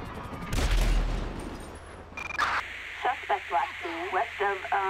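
Loud, close burst of rapid gunfire in a video game police shootout, followed by crackly radio chatter and shouting voices.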